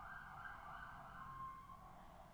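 An ambulance siren wails faintly in the distance outside, a steady high tone held for a couple of seconds with no talking over it.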